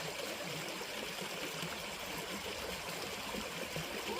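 Steady rushing and trickling of a small stream, continuous and close, with no voices.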